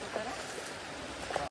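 Water pouring down at Akada waterfall in the Saputara hills, a steady close broadband rush that fills the short stretch and cuts off abruptly at the end, with faint voices underneath.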